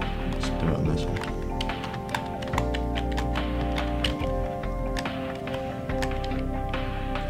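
Computer keyboard keys tapped while playing a parkour video game, quick irregular clicks mixed with game sounds and background tones, with a person talking over them.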